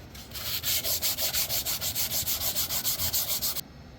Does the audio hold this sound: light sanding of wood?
yes